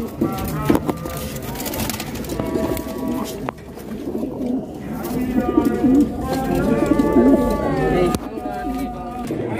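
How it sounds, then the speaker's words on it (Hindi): Breeding pigeons coo repeatedly nearby in low, rolling calls, with other birds and some background activity around them. "कुछ कबूतर ये भी बैठे हैं दोस्तों।"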